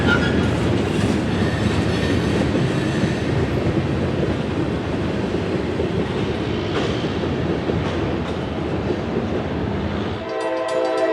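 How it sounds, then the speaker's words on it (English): A CSX local freight train rolls southbound through Marion, Ohio, its loud, steady rumble of railcars and wheels filling the whole stretch before cutting off abruptly near the end. "a CSX local makes its way south out of nowhere"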